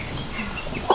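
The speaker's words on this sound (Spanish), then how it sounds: "Miren, hasta gallinas." Chickens on a farm in rural Ecuador clucking softly and continuously at close range, with one brief louder cluck near the end and no talking.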